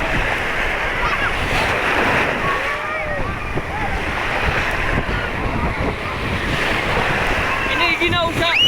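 Sea waves wash steadily at a beach under gusting wind that buffets the microphone, a continuous loud surf roar with no break; voices are faintly present beneath it.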